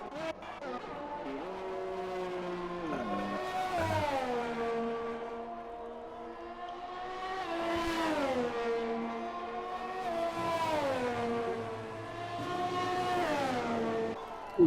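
Race car engines during Silverstone qualifying whine and rev in repeated rising and falling sweeps as several cars pass one after another, loud and fairly close, with no voices over them.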